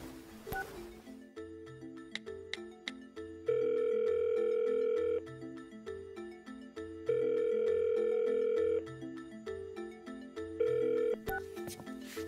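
Phone call ringback tone, repeated long sustained beeps alternating with pauses, loud and steady over a soft melodic musical background with no talking.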